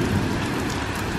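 Steady rain falls outdoors on a dark, stormy evening, a dense continuous hiss of drops on surfaces, loud and close, with no voices.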